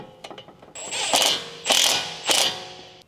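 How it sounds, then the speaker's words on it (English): An electric impact wrench with a 10mm deep socket tightens the nut on a height position sensor while a lower control arm kit goes onto a 2007-2013 Acura MDX. The whirring motor hammers loudly and up close in three short bursts. "Use a 10mm deep socket with an electric impact wrench to tighten the height position sensor."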